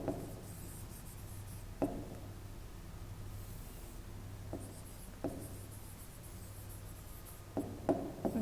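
A pen scratching across paper while a maths exercise is worked by hand, soft and close, with quiet continuous strokes and a few sharper taps and clicks spread through an otherwise quiet room.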